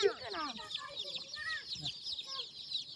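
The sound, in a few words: chicks or broiler chickens clucking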